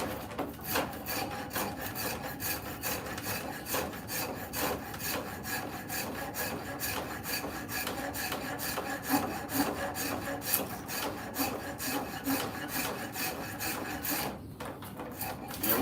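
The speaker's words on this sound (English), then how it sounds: "Let's get the Russian or Germany-made rasp out. See what it'll do. Oh yeah, that thing eats." A small Russian- or German-made rasp files a wooden axe handle, close-up, in a fast, steady, unbroken series of rough scraping strokes that continue evenly until a brief pause near the end.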